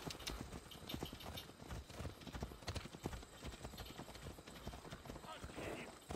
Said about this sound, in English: kill the fucking horse